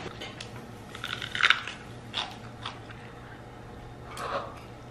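Close crunchy chewing and biting while eating meat at a meal, a few distinct bites with soft mouth sounds in a quiet room.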